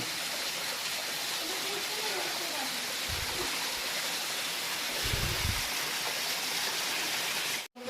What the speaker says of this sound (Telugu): ఆ రాళ్ళ మధ్యలోంచి అయితే వాటర్ వస్తుంది